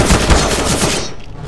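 Rapid, loud gunfire from a Desert Eagle pistol in a CS:GO deathmatch on Dust II, a quick burst of close shots in succession that stops abruptly near the end.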